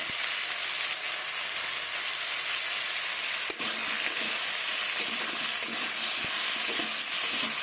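Potato pieces seasoned with salt and turmeric fry in a pan with a dense, even sizzle and hiss, close and continuous, with a few faint stirring knocks.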